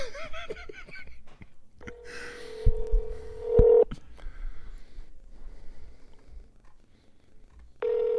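Telephone dialing tones for a prank call, a few steady beeping tones sounding in sequence with short gaps, moderately loud over a quiet background, followed by a final tone at the end.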